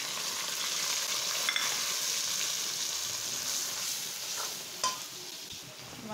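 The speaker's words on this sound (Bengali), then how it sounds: "আমার এখন এই গুঁড়া মশলাটা 2 মিনিট ভেজে নেওয়া হয়ে গেছে।" Ground spices fry in hot oil over browned onions in a pan for a Bengali meat and potato curry, a steady close sizzle broken by occasional scrapes and clicks of stirring, with no voices.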